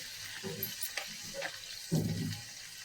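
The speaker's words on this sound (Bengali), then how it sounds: "এরপর আমরা মাখনটা ছেড়ে দেবো" Butter melts in a hot pan with soft crackling sizzle, growing louder near the end, with faint clatter of a utensil against the pan.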